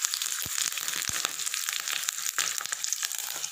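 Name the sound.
dried chilli, garlic and curry leaves frying for tempering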